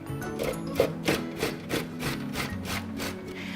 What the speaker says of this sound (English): And now I can grate this into my mixture.